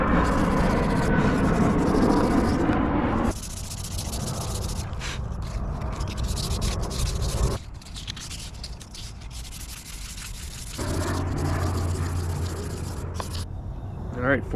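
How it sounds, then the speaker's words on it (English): Steady rhythmic rubbing of 400 grit sandpaper on a restored axe handle, close and continuous, shifting in tone between strokes with no talk. "and that'll be the final sanding."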